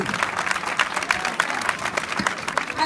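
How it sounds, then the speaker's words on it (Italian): Sustained applause from an audience after a belly dance performance at a charity event, dense steady clapping throughout with a few scattered voices in the crowd. "Vogliamo fargli ancora un grandissimo applauso"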